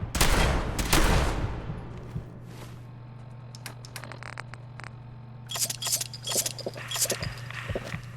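Gunfire in Fallout 4: two loud bursts of shots open the clip, then a steady low hum runs under quieter scattered clicks and a further cluster of sharp shots near the end.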